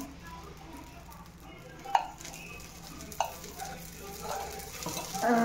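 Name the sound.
oil sizzling in a pan for making dosa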